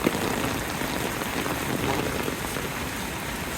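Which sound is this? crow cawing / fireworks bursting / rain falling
rain falling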